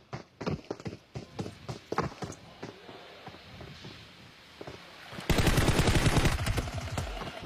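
Gunfire in the mobile battle-royale game PUBG Mobile during a competitive finals match, first as scattered single shots, then a dense, loud rapid burst near the end.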